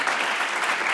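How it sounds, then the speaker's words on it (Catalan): A studio audience on a Catalan spelling quiz show bursts into thick, continuous applause that stays loud and even throughout, with no talking. "Un aplaudiment, si ja podeu cuidar."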